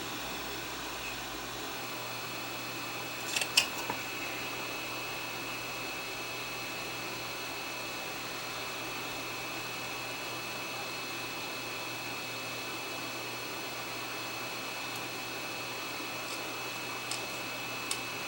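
A hot-air heat tool blows a steady, even whoosh across electrolytic through-hole capacitors on a circuit board, close and continuous with a few faint clicks.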